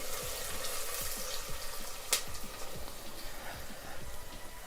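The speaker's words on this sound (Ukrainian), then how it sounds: "Цибулю будемо смажувати ну, такого легкого золотистого" Onion fries in a pan with a constant close sizzling hiss, with a few faint clinks and one brief sharper crackle partway through.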